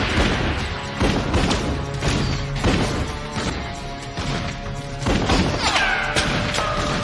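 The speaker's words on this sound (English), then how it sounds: "don't run into the gunfire" Gunfire and crashing impacts from an action scene in the film The Crow, repeated loud bangs and thuds in an irregular volley over dense, booming soundtrack noise.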